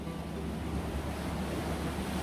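Sea surf rolls steadily against a stony shore beside a seaside restaurant in Kaş, Turkey, a continuous broadband wash mixed with wind rumble, with no voices.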